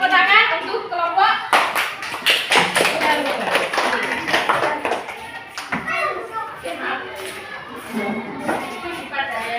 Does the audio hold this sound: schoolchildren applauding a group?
yes